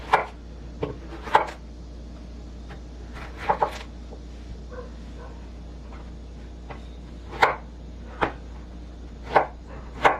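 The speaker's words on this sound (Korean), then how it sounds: "이거를 먹기 좋은 크기로 썰어줄게요." About 300 g of pork is cut into bite-sized pieces with a knife on a board for a stew, giving sharp, irregularly spaced chops, some in quick pairs, close and clear over a quiet background.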